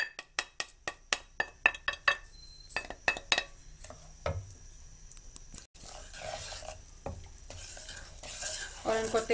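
Dry spices such as chili, amchur, salt and turmeric go into lightly heated oil for a Pakistani spiced chickpea dish, starting with a run of sharp spoon clinks and taps against the pot, then a soft rising sizzle as they fry, close and quiet.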